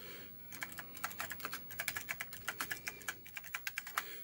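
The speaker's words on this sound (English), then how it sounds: "you can just start typing and everything is normal as you type" Fast typing on an Apple II computer keyboard at a command prompt, a dense run of crisp, close keystrokes with brief pauses between bursts and no voices.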